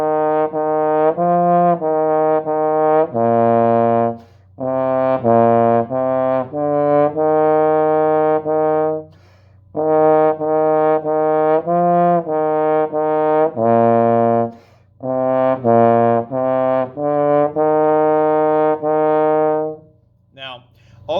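A low brass instrument, trombone, euphonium or tuba, plays the tune Good King Slushie in clear sustained notes with short breaths between phrases, solo and close.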